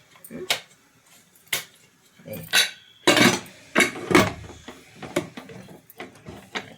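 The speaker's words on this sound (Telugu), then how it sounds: "మంచిగా మూత పెట్టేసుకుందాం." A metal pressure cooker lid is fitted and closed over potatoes and water in a home kitchen, making a series of close, sharp clanks and scrapes in an irregular rhythm, with a few louder knocks in the middle.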